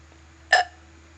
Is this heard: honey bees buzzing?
no